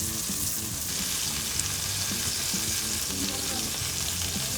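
Loud, continuous sizzling of steak searing in a hot pan with oil, garlic and rosemary, with faint clinks and shuffles of movement underneath.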